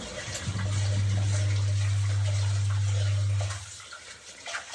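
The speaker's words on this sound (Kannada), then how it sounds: "ಇವಾಗ ಅಕ್ಕಿನ ತೊಳ್ಕೊಂಡು ರೈಸಿಗೆ ಇಡ್ತಾ ಇದ್ದಾರೆ" Water runs steadily for about three seconds while rice is washed for a fish sambar meal, with a strong low hum under the splashing before it stops and quieter background noise remains.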